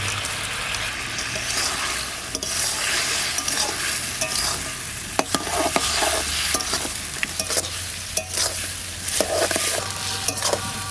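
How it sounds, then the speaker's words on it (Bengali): A fish head fries in a pan with mustard paste, dried and green chillies, turmeric and salt. It sizzles steadily while a utensil stirs and scrapes with repeated clicks and knocks, and no one speaks. "মাছের মাথাটা ভাজা দিব।"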